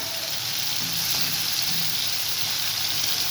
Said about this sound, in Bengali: তাই এইভাবে আমি ভেজে নেবো মাছটাকে খুব কিন্তু কড়া করে ভাজবো না